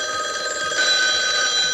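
A telephone bell rings loudly and continuously, a bright sustained trill that stays close and steady without pause.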